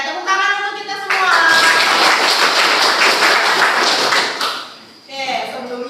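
A classroom of students claps together in a burst of applause that swells, runs for several seconds and then fades, with an adult teacher speaking before and after.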